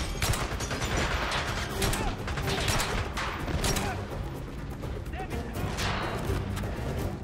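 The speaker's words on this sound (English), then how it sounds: "Shotgun versus shotgun." Shotgun blasts in the James Bond Bloodstone video game, dense bursts of gunfire and mechanical clatter running continuously over busy game audio, with a voice talking over it.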